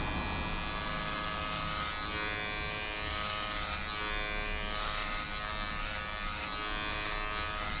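Electric hair clippers fitted with a number 3 guard run continuously in a barbershop, a steady close buzz with a dense harmonic whine that barely changes as they cut hair, with no talking.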